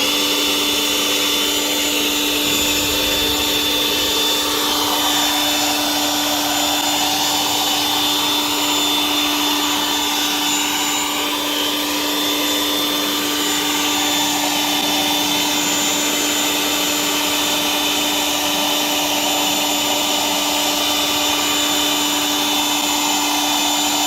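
A Powersmart 40V cordless leaf blower runs steadily at full power, blowing sand and clay outdoors with a loud, continuous whine and rushing air. The sound stays close and unbroken throughout.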